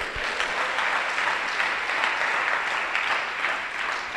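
An audience at a Christian sermon gathering claps in sustained, even applause that fills the whole stretch without a break.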